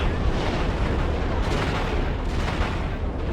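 Explosions in a space battle in the game X4 with a Star Wars mod: continuous loud rumbling blasts and booms, with a few sharper bursts layered over a heavy roar.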